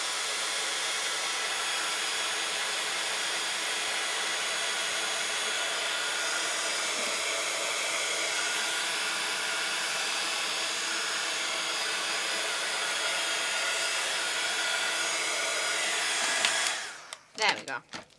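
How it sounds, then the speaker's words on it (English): A continuous, loud hiss-and-whir from a heat gun blasting glue strings off an MDF hat kit. It runs unbroken for about sixteen seconds, then cuts off into brief handling noise. "So all I'm going to do is blast it with my heat gun."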